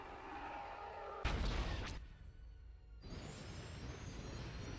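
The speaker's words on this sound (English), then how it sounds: "the explosions from all of the missiles" Loud burst of missile explosions from a Star Wars space battle in a capital-ship game mod: a sharp broadband blast followed by a roaring, crackling wash of detonations that fades briefly, then returns as rumbling background battle noise.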